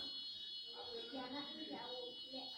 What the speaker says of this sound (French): il y a l'alarme qui sonne